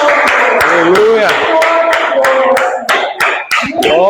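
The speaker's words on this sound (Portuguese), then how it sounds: "E para Ele, uma salva de palmas" A church congregation claps together during a service, with sharp, regular claps that repeat in a steady rhythm over loud singing and voices.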